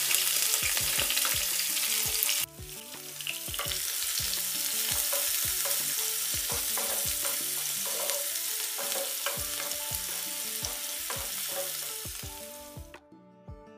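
Crushed coriander and fennel seeds fry in hot oil for a samosa filling, a steady loud sizzle broken by repeated scraping stirs of a spatula in the pan, without talk.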